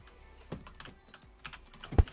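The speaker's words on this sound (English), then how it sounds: "Messing up my typing." Computer keyboard typing in sparse, irregular bursts of clicks, close and fairly quiet, ending with a heavier key strike during a live game stream.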